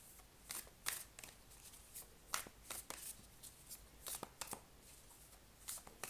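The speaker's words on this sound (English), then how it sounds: "I'm going to pull a few cards from her Ancient Stones Oracle as well." Ancient Stones Oracle card deck being shuffled by hand: quiet, close riffling and snapping card sounds in irregular bursts over a soft background hiss, with no voices.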